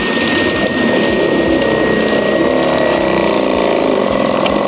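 A VEVOR 16L electric sprayer's pump runs after being switched on, a loud, steady mechanical whir and rattle with a thin high whine that stays constant throughout.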